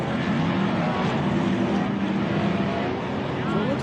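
A powerful 800-horsepower off-road race vehicle engine at a racing event, a loud continuous roar with shifting revs throughout and a voice talking over it.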